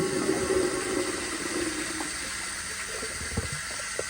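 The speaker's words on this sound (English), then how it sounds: "let's see if this is enough for a weak flush." Water gushes through a 1993 Kohler Kingston toilet on a weak flush that nearly siphons, loud at first and then settling into a lighter, bubbly rush with a few gurgles.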